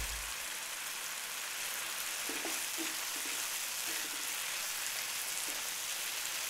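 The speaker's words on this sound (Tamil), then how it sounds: "பாதி எலுமிச்சம்பழத்தை பிழிஞ்சு விட்டு நல்லா கிளறுங்க" Steady sizzle of spring onion chicken in a pan as lemon juice is squeezed in and stirred, with a few soft clinks of a spoon against the pan partway through and no talking.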